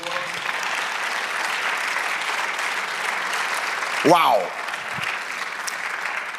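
A church congregation applauds during a sermon, a steady, dense wash of clapping that holds throughout, with a single voice briefly exclaiming partway through.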